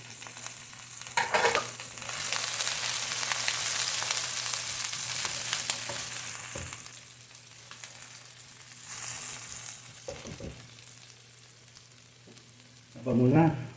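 Minced garlic and chili frying in a pan for a stir-fry, with a steady close sizzle that swells and fades, broken by a few spoon scrapes and a louder burst of sizzling near the end, with no talking.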